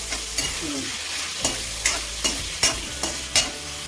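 Paneer cubes fry in hot oil on a low gas flame while a slotted spoon stirs and scoops them out. A steady sizzle runs beneath repeated sharp metal scraping taps, close and fairly loud, with no voices.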